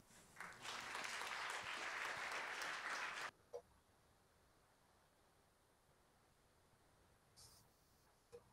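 A conference audience claps loudly for about three seconds after a presentation, then the applause stops abruptly, leaving quiet room noise with a couple of faint knocks.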